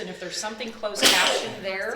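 A single loud sneeze bursts out in a meeting room, cutting across a speaker's ongoing talk midway through.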